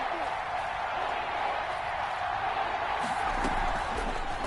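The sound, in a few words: crowd cheering in Madden 21 football video game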